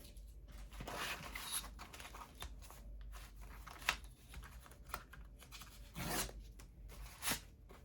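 Scissors cut through paper for a journal signature, giving several dry, rasping snips and rustles at close range with short quiet gaps between strokes.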